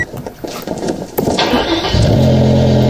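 BMW car engine in Farming Simulator 19 starting up: clicks and a cranking whir, then a loud steady idle with a low even hum that holds to the end, no speech.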